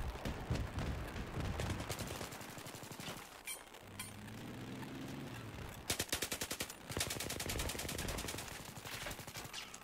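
Automatic weapon fire in Battlefield 3, squad deathmatch on the Noshahr Canals map, crackles in sustained rapid bursts, loud and close, with a short pause before another long full-auto stream.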